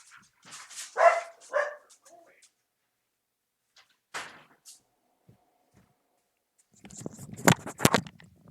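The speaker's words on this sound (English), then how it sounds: "Dog." A pet dog in a home office gives a few close barks and whimpers, separated by quiet gaps, followed by shuffling and pattering sounds near the end.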